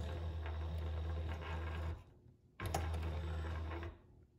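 A sewing machine stitches a courier pouch, with close, steady mechanical whirring in two bursts separated by a brief pause, and no talking.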